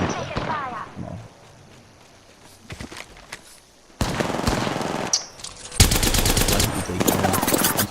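Gunfire crackles in a match of Apex Legends: scattered single shots come first, then dense bursts of automatic fire at close range over background game sounds, with a voice briefly heard.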